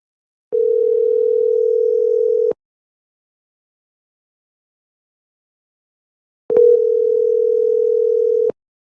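A steady telephone ringback tone sounds during a call, two long, loud, identical bursts about two seconds each separated by several seconds of silence.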